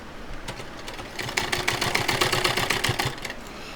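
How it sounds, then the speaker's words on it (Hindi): A sewing machine stitches a pocket onto palazzo pants, running in a steady rapid chatter that starts softly and grows louder and denser midway, close and alone with no talk. "अब इसमें हम एक पैर की सिलाई लगा लेंगे"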